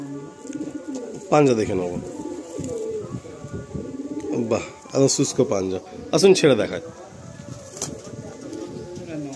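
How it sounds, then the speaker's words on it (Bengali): An active male pigeon held for sale coos in short, low bursts close by, mixed with the rustle of handling while someone talks over it almost throughout. "এটা নর পায়রা, এই যে অ্যাক্টিভ পায়রা, কত অ্যাক্টিভ দেখুন"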